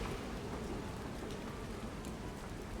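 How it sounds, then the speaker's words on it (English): Steady rain falls in the video game Resident Evil 9 Requiem, a dense, even patter that continues without pause, with no voices over it. "It's raining out, so let me just hop under the here real quick."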